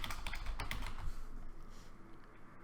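Rapid typing on a computer keyboard, a dense run of close key clicks that thins out toward the end, heard alone without any voices.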